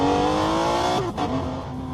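Tesla fitted with a Maxhaust sound booster imitating a Formula 1 car, giving a loud, shrill, racing-style acceleration whine that climbs steadily, dips briefly at a gear-like shift, then resumes, close and continuous with no talk.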